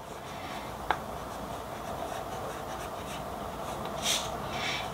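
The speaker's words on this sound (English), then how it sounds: "I'm going to just do a quick little writing sample with that so you can see how it handles" A Nahvalur fountain pen with a medium nib moves across paper, a soft, steady scratching close to the mic with one small tap near the start and a little louder stroking toward the end.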